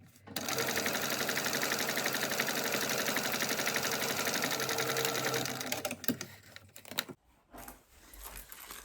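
A domestic sewing machine top-stitching backpack fabric along a zip runs loud and fast for about six seconds, its rapid needle rhythm steady, then slows and stops, followed by light handling clatter.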